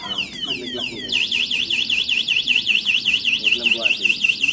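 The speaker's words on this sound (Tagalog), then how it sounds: "Once na magalaw yung unit, mag-alarm po yan." An electric scooter's anti-theft alarm chirps a few descending tones, then settles into a loud, rapidly warbling siren that repeats steadily, close by.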